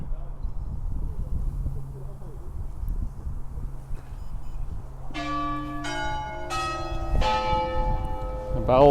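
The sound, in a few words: clock tower bells ringing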